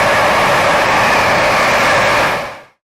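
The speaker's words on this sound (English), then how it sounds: "High-speed train." A loud, steady roaring rush of a high-speed train passing close by, holding level before cutting off abruptly.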